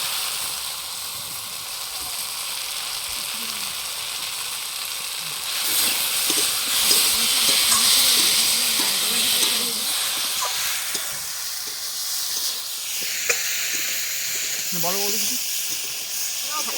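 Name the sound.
fish frying and sizzling in a pan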